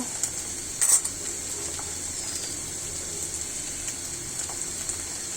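Bitter gourd dropped into a hot pan of oil and fried with stirring: a steady close sizzling hiss throughout, with one brief clattering burst early on and faint scrapes after.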